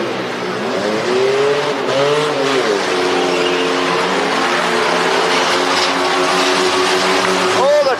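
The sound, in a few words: rear-wheel drive truck racing with tire squeal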